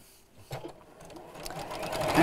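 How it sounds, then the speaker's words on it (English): A sewing machine runs a quarter-inch seam, stitching fabric into a tube with a steady mechanical whirr that builds and grows louder toward the end, close and without talk. "And we're sewing this to make a tube."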